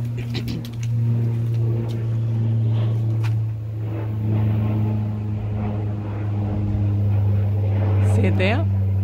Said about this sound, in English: A plane coming over.